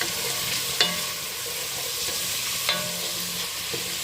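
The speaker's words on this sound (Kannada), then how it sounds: "ಚೆನ್ನಾಗಿ ಹುರಿಬೇಕು ಇದನ್ನು." Peas, carrots and fenugreek leaves fry in a pan for mushroom biryani, a steady close sizzle broken by a few sharp spoon scrapes and taps, with no voices.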